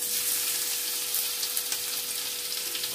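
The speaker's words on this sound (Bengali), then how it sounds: "একটু জিরে ফোড়ন দেব" Cumin seeds tempering in hot oil give a steady, bright sizzle, close and even throughout, with a few faint pops and no voices.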